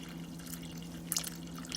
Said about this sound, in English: Adding my water, just enough to cover them.